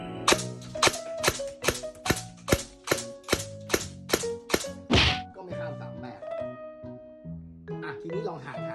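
An airsoft gun fires a rapid, evenly spaced string of about ten sharp, loud shots, followed by a brief pause and someone speaking over faint mechanical clicks.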